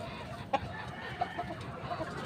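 Turkeys and chickens clucking on a farm, faint short clucks scattered over a steady background murmur.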